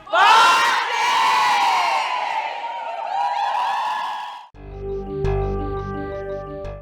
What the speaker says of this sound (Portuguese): E o grito de guerra por aqui já é possível imaginar.